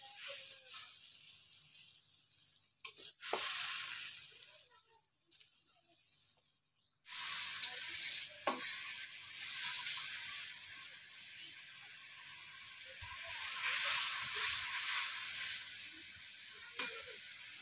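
Spice paste of ground cumin and coriander being stirred and fried in a pan for a bitter gourd fish curry, soft sizzling and scraping bursts separated by quiet gaps, close and fairly faint.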